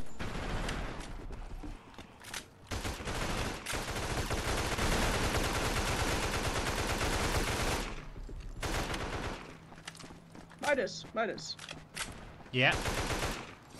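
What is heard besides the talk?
gunfire in video game Mega Zombie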